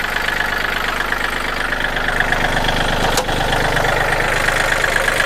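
Diesel engine of a used Kubota L3608 or Yanmar EF393T tractor idling, a loud, steady, even chugging throughout with one brief click partway through and no talk.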